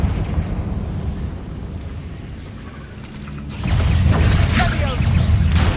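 In the Hogwarts Legacy video game, a Confringo spell sets off a fiery explosion: a low, sustained roar swells suddenly midway and stays loud and rumbling to the end.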